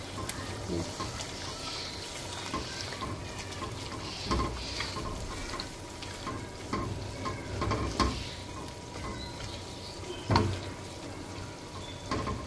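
Egg khagina is stirred as it fries in a pan, with a continuous sizzle and repeated scraping, stirring strokes close by.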